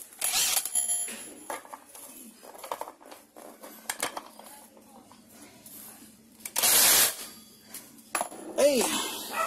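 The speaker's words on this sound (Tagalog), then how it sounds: "Impact wrench." A Yamaha Mio i125 scooter gets an impact wrench during torque drive and clutch maintenance, with several short loud bursts among quieter clatter and people talking.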